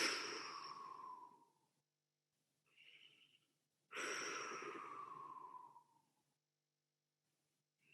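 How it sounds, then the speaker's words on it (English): Two long, deep breaths during a quiet guided meditation, each a soft sighing exhale close to the microphone, separated by a faint intake and near silence, with no talking. "Take 3 deep breaths."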